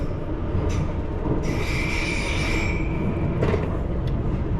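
A London Underground Piccadilly Line train runs eastbound toward Oakwood depot on a Friday night, a loud, steady rumble of wheels on track with a high metallic squeal rising partway through.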